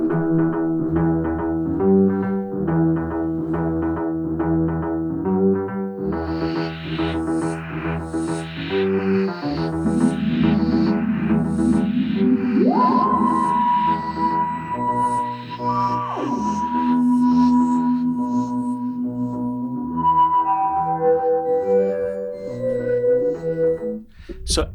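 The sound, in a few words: original Doctor Who theme, manipulated analog tape of plucked string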